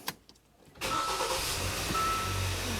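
A Hyundai Santa Fe engine cranks and catches, then settles into a steady idle that continues, preceded by a few faint clicks.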